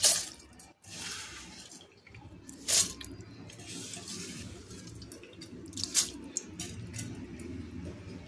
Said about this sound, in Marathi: आता ह्याच्यातलं मी पाणी काढून स्वच्छ धुवून घेते